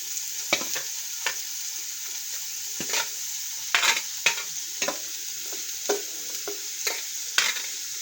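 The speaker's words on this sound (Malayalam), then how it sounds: "അങ്ങനെ നമ്മൾ സവാള ഇട്ടിട്ടുണ്ട്" Four medium sliced onions sizzle in a pan for a Kerala-style spicy rabbit roast, a steady frying hiss broken by irregular scraping stirs of a spoon, with no talk.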